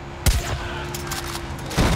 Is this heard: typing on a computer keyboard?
no